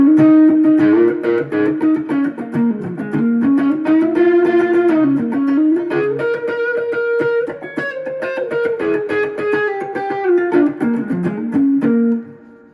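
Overdriven electric guitar with distortion plays a steady, sustained chordal melody, thick harmonics ringing continuously at close range for about twelve seconds before cutting off, with no talking.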